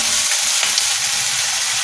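An egg pancake sizzles steadily in a hot frying pan, a loud, continuous crackling with no voices over it.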